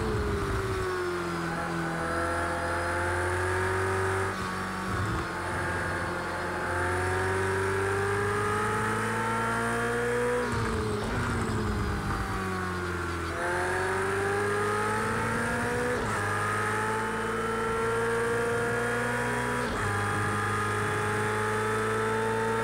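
Race car engine in the Project CARS 2 racing game, chasing a rival through corners, a loud continuous high-pitched whine that climbs with upshifts and dips on braking, repeating over several laps of acceleration, no talking.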